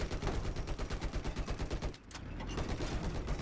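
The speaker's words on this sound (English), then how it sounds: "those headshots, really, really strong with the HMG" Steady rapid heavy machine gun fire from a Battlefield 4 tank-map battle, a loud rhythmic stream of close shots that pauses briefly and then resumes.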